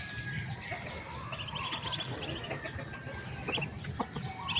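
Chickens and young chicks at feeding time on a farm, with scattered clucks and cheeps over a constant background hum of insects; no one speaks.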